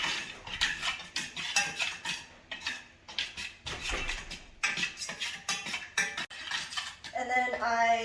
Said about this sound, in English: And then I stir this for 15 minutes before it starts to solidify.